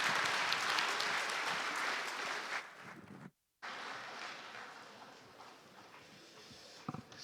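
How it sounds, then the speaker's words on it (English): Audience applause in a banquet hall at an annual road-safety lecture: loud, dense clapping that stops abruptly for a moment, then resumes and gradually thins out, with a few scattered claps at the end. "please give the discussants and the moderator another round of applause"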